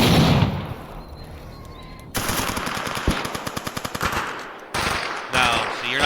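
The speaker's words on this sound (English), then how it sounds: "You can be hit by gunfire by NPCs" Rapid machine-gun bursts in the shooter S.T.A.L.K.E.R. Anomaly, loud and close, with sharp repeated shots in quick rhythmic volleys separated by short pauses.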